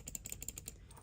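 Rapid, faint clicking of small mini-arcade controller buttons being pressed in quick succession, a light irregular patter of micro switch clicks close up.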